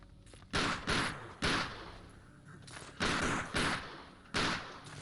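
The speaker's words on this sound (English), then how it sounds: "I like that he can shoot even during crouching and rolling." Gunshots in Tomb Raider Angel of Darkness fired while crouching and rolling, several loud separate blasts in an uneven rhythm, each with a trailing echo.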